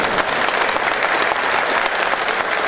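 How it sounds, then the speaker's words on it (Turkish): Sustained applause from a large audience at an official ceremony held at ANFAŞ in Antalya, a dense, steady roar of many hands clapping at once without letting up. "Cami gününden alkış istiyorum ve teşekkür ediyorum."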